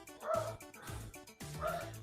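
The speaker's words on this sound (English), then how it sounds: "I do hear a dog. That would be mine." A pet dog at home gives a few short, yippy barks and whiny yelps in quick bursts, fairly faint and slightly distant, heard alone without talk.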